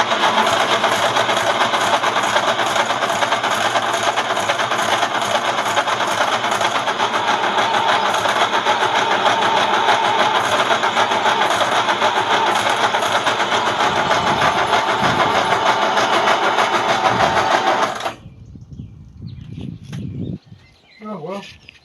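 A 1924 Hotchkiss car engine running rough: a steady loud, close mechanical roar with clatter for most of the time, then it cuts out abruptly, leaving faint rustling and a voice.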